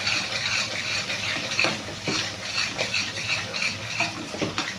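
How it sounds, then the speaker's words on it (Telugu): Spices being stirred into an egg Mughlai curry in a pan, a steady soft scraping and sizzling that runs continuously, close up, with a few sharper spoon knocks. "ఇప్పుడు ఇదంతా మనం మంచిగా మిక్స్ చేసుకుందాం"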